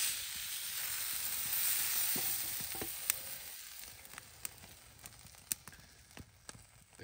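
Steak sizzles on a restored old camp griddle at a campsite cookout, a steady frying hiss that softens slightly while sharp pops and crackles break through in the second half.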